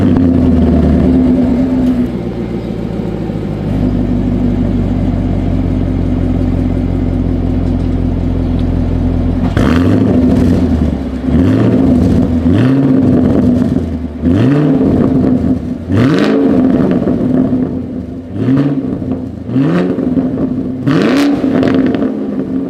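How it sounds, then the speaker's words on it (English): A 2022 Chevrolet Camaro SS with quad exhaust tips idles with a deep, loud rumble, then its V8 is blipped repeatedly in sharp revs that rise and fall back, each rev close and strong. "As always, here is that exhaust clip."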